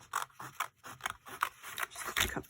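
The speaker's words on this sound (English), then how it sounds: "Need my lovely scissors." Scissors snip through old book pages in a quick run of crisp, close cuts, each slice a short bright rasp, with no talking.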